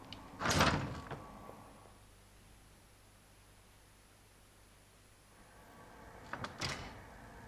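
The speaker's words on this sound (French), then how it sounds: "Bon, on va prendre la porte qui était cachée." A hidden door slides open in the video game Mario + Rabbids Sparks of Hope, with a short grinding rumble at the start, a quiet hiss in between and a second scraping burst as it settles.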